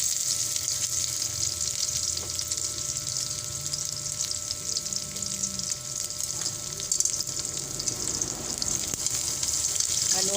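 Garlic frying in rendered pork fat gives a steady, close sizzle that carries on throughout, with faint stirring and kitchen clatter underneath.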